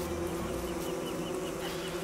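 Steady, close buzzing of a bee swarm in the survival video game Don't Starve, a continuous droning hum without breaks and with no talking.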